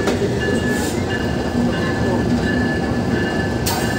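The Modhumoti Express rolls in at Dhaka station, filling the platform with a continuous loud rumble of wheels on rails, thin squeals rising above it and faint voices mixed underneath.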